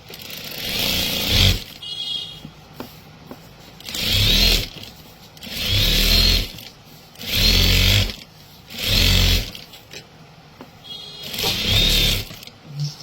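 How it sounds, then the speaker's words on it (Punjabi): A tailoring sewing machine runs in repeated bursts of a second or two each, stitching a seam along fabric, loud and close with short pauses between runs and no talk. "ਆਪਾਂ ਬਿਲਕੁਲ ਇਹਦੇ ਨਾਲ ਨਾਲ ਇੱਕ ਸੀਨ ਮਾਰਾਂਗੇ"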